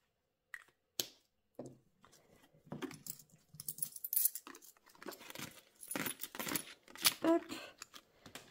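Coins dropped into a paper envelope make sparse metallic clinks and jingles close by, with paper rustling and handling noises between them.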